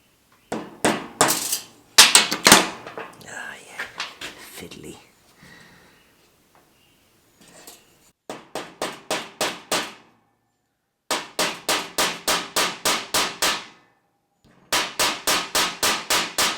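A small nail driven into a drilled hole with a hammer, sharp metallic strikes in quick bursts of four to six blows separated by pauses, close and loud, with brief faint sounds between.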